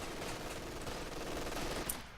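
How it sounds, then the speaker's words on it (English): Machine gun suppression fire rattles in a strategy video game battle, a steady, fairly faint stream of rapid shots with no voices. "MG suppression."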